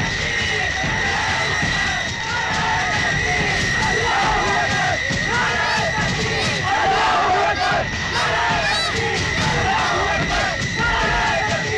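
A loud, dense crowd shouts and yells continuously throughout, a mass of overlapping angry voices close by with no pause, like a mob gathering in a Hindi action film scene.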